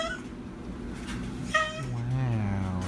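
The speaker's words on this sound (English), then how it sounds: "It's a honking cat." A cat gives short honking, meow-like calls, close by, with a person talking in the background.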